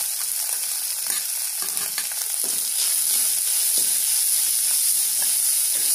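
Green chillies and onion frying in oil for a fish stir-fry, a steady close sizzle and hiss with occasional stirring scrapes, no voices.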